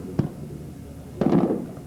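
Demonstration weapon strike explosion during a naval weapons demonstration aboard HMCS Fredericton: two muffled, distant booms, a brief thud followed by a longer rumbling blast.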